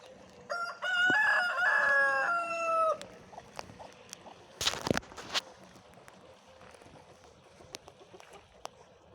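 A rooster crows loudly and close for a few seconds, followed by scattered chicken clucks, footsteps and a sharp clattering burst on a farm, no speech.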